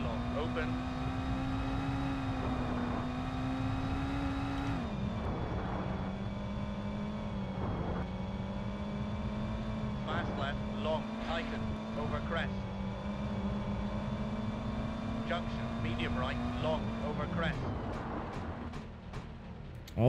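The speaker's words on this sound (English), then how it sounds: "I'm accelerating and the car just does not move." A rally car in V-Rally Championship Edition 2 holds a steady, droning engine note that rises and dips with throttle, running continuously under frequent talking from a player.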